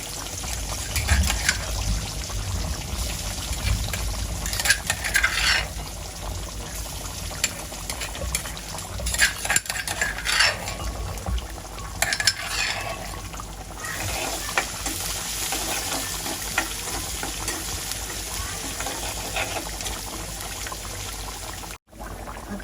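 Garlic and fenugreek frying in a pan for crab curry, a continuous sizzle with intermittent stirring and watery crackles over a long stretch, no talking, briefly cutting out near the end.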